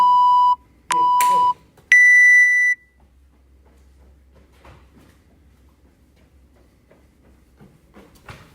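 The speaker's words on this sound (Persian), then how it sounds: "آماده بزن تایمر رو." Three loud electronic timer beeps follow a countdown, two short equal tones and then a longer higher one, close and clear, after which only faint room noise and a few soft knocks remain.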